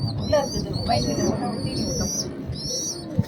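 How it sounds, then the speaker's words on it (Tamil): Pet pigeons calling in a loft, giving repeated short cooing notes in quick bursts close by, with background rustle and no talking. "கி கி கி கி கி கீன்னு கத்துறான் ஒருத்தன்"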